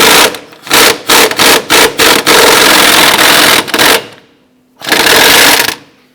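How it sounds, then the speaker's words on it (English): A power tool driving a 21mm socket on a swivel and extension loosens the upper ball joint nut on a 2011-2021 Jeep Grand Cherokee, giving several short rattling bursts, then a sustained run, a pause and a final loud burst. "We're going to use our 21mm socket and our swivel and our extension here, and we'll go ahead and loosen this."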